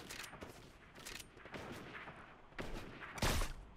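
Rapid bursts of drum shotgun fire on auto-fire in a mobile shooter game, several loud blasts in quick succession with a heavier boom near the end, no talking.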